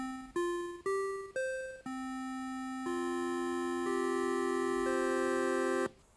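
Synthetic pulse-wave tones from a homebrew computer's audio controller step through a short melody: four quick notes that each fade, then longer sustained notes rising in pitch before stopping abruptly.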